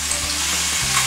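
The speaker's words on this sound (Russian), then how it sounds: "И на раскаленное горячее масло высыпаем наши желудочки" Hot oil sizzles steadily as chicken gizzards hit the pan, a close, continuous frying hiss with faint stirring clatter.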